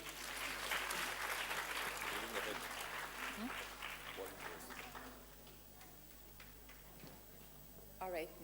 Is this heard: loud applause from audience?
yes